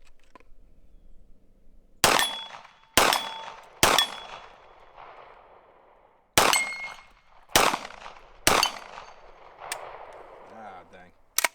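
Single rifle shots from a Foxtrot Mike FM45 firing Tula ammunition ring out sharp and loud, about seven separated shots with uneven gaps and ringing decays between them.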